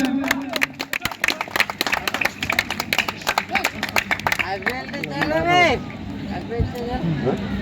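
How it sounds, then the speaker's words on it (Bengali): Audience clapping rattles through an outdoor women's football prize ceremony in Banshpukuria, Tetulmuri, West Medinipur, a dense patter of many hands beneath an amplified announcer's voice that fades as the applause tails off. "হাতের তালি দিয়ে সম্বোধন জানাবেন"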